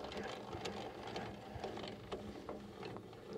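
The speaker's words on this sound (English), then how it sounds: "put your handle in, start winding." Crank handle wound on a Maverick camper trailer to lower it to the ground, a close, steady run of mechanical ratcheting clicks and grinding gear noise.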